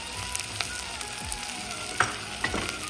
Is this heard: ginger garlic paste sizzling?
yes